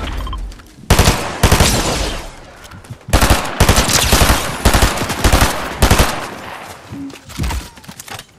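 Rapid bursts of automatic gunfire in a Fortnite match, loud and close, coming in several sustained volleys separated by brief pauses, with a few single shots near the end.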